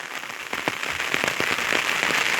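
Heavy downpour over a village, dense hissing rain with scattered sharp drop impacts on surfaces, continuous and close, growing slightly louder throughout with no talk.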